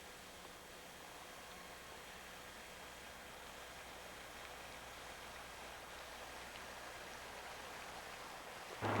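Steady broadband rush of Silver Creek flowing below a campsite, continuous and even in level, heard from some distance with no voices.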